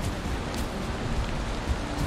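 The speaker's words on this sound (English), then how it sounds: "it's raining now" Steady rainfall in the Viking survival game Valheim, a continuous even hiss of falling rain with soft patters, heard alone.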